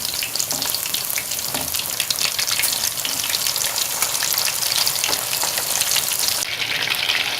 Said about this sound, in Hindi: अब हम इसकी एक साइड ब्राउन करेंगे, फिर हम इसकी दूसरी साइड ब्राउन करेंगे